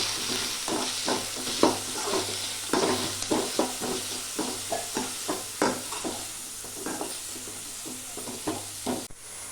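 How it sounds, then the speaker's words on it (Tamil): Garlic and onions sautéing in a pan for a potato cauliflower kurma, a soft steady sizzle with repeated rhythmic scrapes and knocks of a spoon stirring, close and clear, with no talking. "பூண்டு வெங்காயத்தையும் வணக்கிக்கலாம்"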